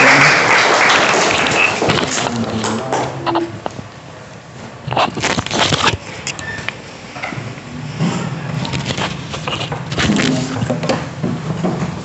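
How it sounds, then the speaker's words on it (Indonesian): An audience claps for Suci during a peer-teaching session, a rustling, uneven applause that is loudest at the start, thins out and swells again near the end, with faint room noise mixed in. "Tapi sebelum itu kita beri aplaus dulu untuk Suci."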